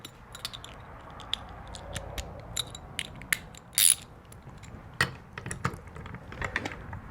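A socket ratchet tightens bolts on a Gamber Johnson passenger side vehicle mount, with quiet, close, irregular clicking bursts and one brief louder rattle partway through.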